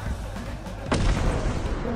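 A grenade blast in the game Content Warning lands as a single loud boom about midway, with a rumbling tail, over a busy background of game noise and voices talking.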